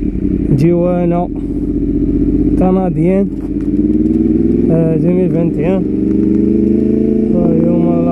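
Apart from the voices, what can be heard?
Yamaha R1 2018 motorcycle engine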